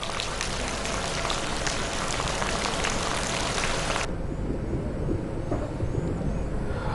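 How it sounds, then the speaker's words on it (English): Heavy rain falls in Badegama, a dense, steady hiss of drops on surfaces that continues throughout, loud and even, with the bright top end dropping away partway through while the downpour carries on. "it has been raining heavily since last night in the Badegama and its surrounding areas as well"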